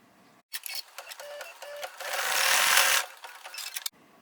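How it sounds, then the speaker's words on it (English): A sewing machine stitching a mug placement line in red thread, starting with short stuttering bursts, then running steadily for about a second before slowing into a few quick stitches and stopping. "change our thread to red and stitch the red mug placement line"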